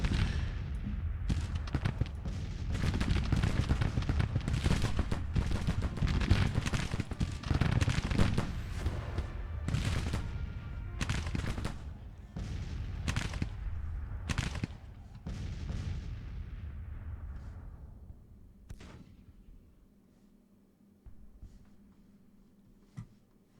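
Civil War-era artillery and musket fire in a Fight for Tennessee battle game cracks and booms in a dense, rapid barrage, loud and near, thinning to scattered distant shots at the end.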